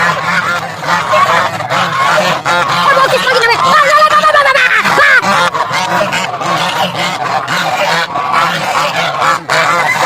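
A noisy flock of hungry ducks honking and squawking continuously nearby, loud and overlapping, with faint voices in the background.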